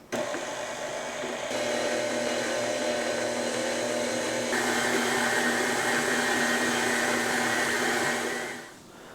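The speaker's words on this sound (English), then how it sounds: "put it on our mixer, and we're going to set this on like a low medium for about 12 minutes" A stand mixer kneads Thai tea roll dough at low-medium speed, its motor giving a steady, continuous whir that holds without a break before trailing off at the end.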